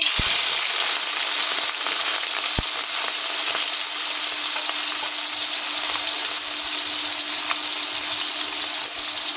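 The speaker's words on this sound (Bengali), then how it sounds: "কড়াই গরম হয়ে গেছে এখন আমি মাছগুলো দিয়ে দেবো" Small fish fry in hot soybean oil in a wok, a loud, dense, continuous sizzle close up, with a couple of faint clicks and no talk.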